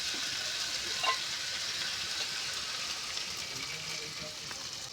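Potatoes that have been sautéed for a Bengali fish curry sizzle steadily in the pan as water is added, a close, even hiss of frying that holds level throughout with no talking.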